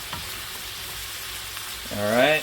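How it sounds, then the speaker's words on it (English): Onions sizzle and crackle steadily in lard in a pan, close up, with a brief spoken word at the end. "We're going to let that sizzle for a minute."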